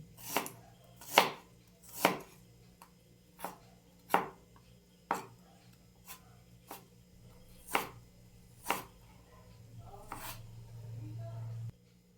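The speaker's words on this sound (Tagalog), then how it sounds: "Tapos na po natin hiwain ang ating luya." A knife chops through ginger on a cutting board for chicken soup, about a dozen sharp, evenly spaced strokes close up and fairly quiet, followed by a faint low hum.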